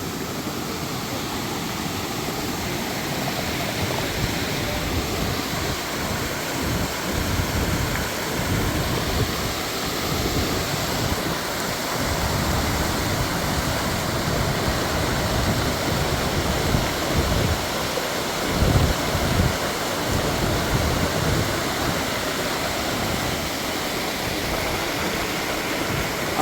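Waterfall in Attappady, Palakkad, Kerala, roaring as a steady, dense wash of falling water close by, continuous and unbroken, with no voices.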